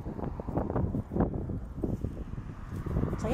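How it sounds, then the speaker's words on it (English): Strong gusting wind outdoors buffeting the microphone, a rumbling, irregular low roar that swells and fades throughout, fairly close and unbroken. "It's really windy out today."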